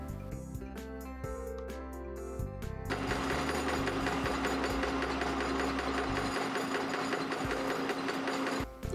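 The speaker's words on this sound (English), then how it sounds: "we replace the custom arms on our shaker table to run the joint" A shaker table running a Rock Crawler suspension joint fitted to swapped custom arms: a steady mechanical hum and rapid rattling vibration, first with separate clicks and then a denser continuous buzz that carries on to the end, no talk.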